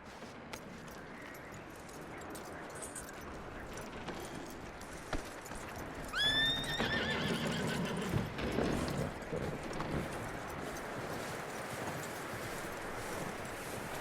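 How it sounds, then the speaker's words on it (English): Horse hooves clop steadily in Red Dead Redemption 2, and midway a horse lets out a sharp whinny that rises above the soft, continuous outdoor ambience. "That looks like a decent horse."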